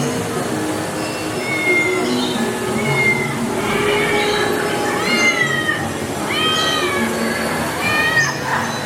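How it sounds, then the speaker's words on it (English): Several cats meow repeatedly, rising and falling cries overlapping at close range over a steady background rumble at a Universal theme park. "Noisy cats up here."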